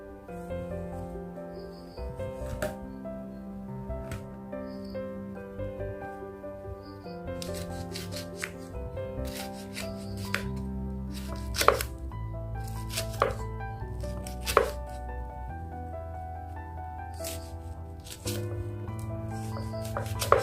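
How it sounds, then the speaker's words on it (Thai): A knife chops kaffir limes repeatedly on a cutting board in irregular bursts, sharp taps alone over faint background hum, with occasional louder knocks. "หั่นนี่เลยค่ะมะกรูดนะคะ หั่นมะกรูด"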